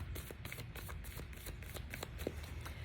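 Tarot cards riffled and shuffled in a steady run of crisp, papery flutters and soft slaps, close and fairly loud throughout, with one card flicking loose along the way; no voices.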